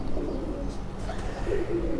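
A pigeon coos softly and close by in low, rolling calls, with faint background noise and no clear speech.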